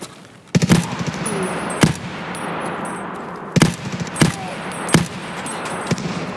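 Gunfire in Escape from Tarkov on the Customs map: loud, close single shots and short bursts, sharp cracks spaced irregularly over a steady ambient background, with no talking.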